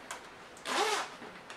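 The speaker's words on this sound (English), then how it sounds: "Now, the vest zips up with a conventional zipper" A conventional zipper on a black security vest is pulled once in a short, close, raspy zip, with a couple of faint fabric rustles around it.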